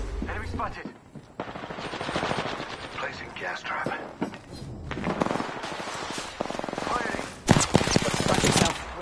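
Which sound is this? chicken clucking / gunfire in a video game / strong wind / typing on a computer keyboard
gunfire in a video game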